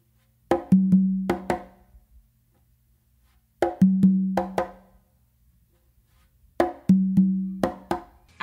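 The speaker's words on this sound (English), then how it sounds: "I'm gonna do a close slap on the conga" A conga is struck with the dominant hand in close slaps, in three short clusters of sharp, ringing hits separated by pauses, close and clear with no talking.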